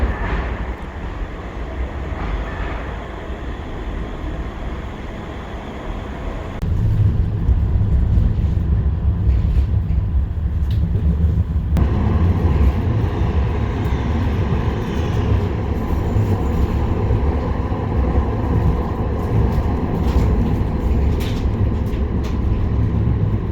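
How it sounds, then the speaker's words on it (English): Steady low rumble of a Manchester tram in motion, the engine noise growing louder partway through, with faint rattles and clatter and no talking. "Nice little tram ride, about 10 minutes."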